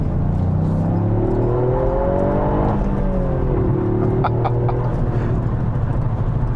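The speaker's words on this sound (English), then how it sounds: "Intelligent mode allows the revs to be matched as you change down." A 2021 Toyota GR Yaris engine hums steadily, its revs rising, dipping and settling as the revs are matched on downshifts, with a smooth whirring tone throughout.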